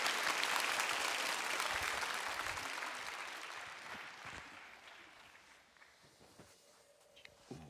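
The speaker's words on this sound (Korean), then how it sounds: "우리 박수로 환영하겠습니다" A church congregation applauds in welcome, a broad wash of clapping that gradually thins and fades, with shuffling movement and a few stray claps near the end.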